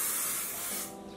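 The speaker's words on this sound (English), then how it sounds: "I like to use this hairspray by Bedhead" Bedhead TG Masterpiece Massive Shine hairspray sprays in one steady, close hiss that lasts about a second and then cuts off, with no other sound.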